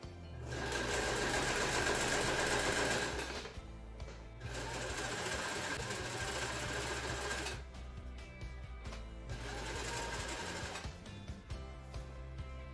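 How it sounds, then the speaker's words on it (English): A sewing machine runs close and loud along a pinned fabric edge, its rapid rhythmic needle hum coming in three long bursts separated by short pauses and clicks, with no voices. "Now all I need to do is sew along here where I have it pinned in place, pretty close to the edge."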